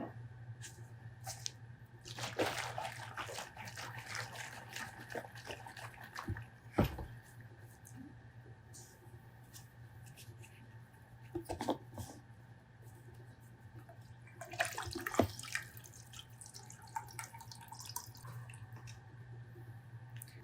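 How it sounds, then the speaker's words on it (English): A one-liter water sample is shaken in a lab settling cone, giving soft, irregular sloshing and squishing bursts over a low steady hum. "before we take samples, we need to shake it."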